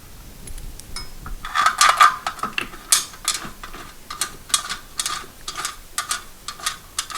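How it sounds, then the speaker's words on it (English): A bolt is turned by hand into a metal bed frame to attach an upholstered headboard, giving irregular close metallic clicks and ratcheting scrapes over several seconds. "we're just going to screw it in by hand right now"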